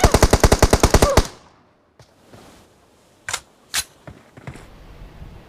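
Rapid automatic gunfire from the video game PUBG Mobile, a loud burst of about a dozen evenly spaced shots, then a pause and scattered single distant shots and clicks.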